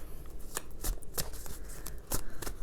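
Repeated crisp riffling bursts of a deck of oracle cards being shuffled, several quick flurries close by with brief pauses between them.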